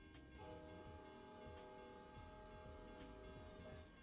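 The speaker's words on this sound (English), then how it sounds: "Here comes Amtrak." An Amtrak train rolls by at a steady distance, its continuous rumble and sustained tonal hum holding throughout with no voices over it.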